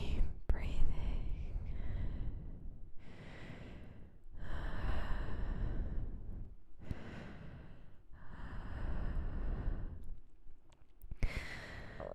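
Slow, close ASMR deep breathing in long, airy inhale-and-exhale phrases repeated several times, soft and breathy with occasional mouth clicks, and no talking.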